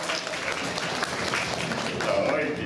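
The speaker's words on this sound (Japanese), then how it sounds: "みんな拍手だ" An audience claps steadily throughout at the Turtle Talk show at Tokyo DisneySea, a continuous wash of applause with a voice talking over it.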